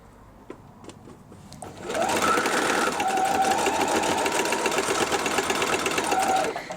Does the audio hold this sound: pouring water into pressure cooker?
no